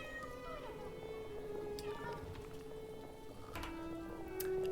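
A pet cat meows a few times, short and fairly faint, over a murmur of background sound, with a voice talking at moments.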